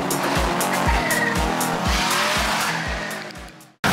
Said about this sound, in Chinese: 当超跑甩尾的英姿卷起尘土飞扬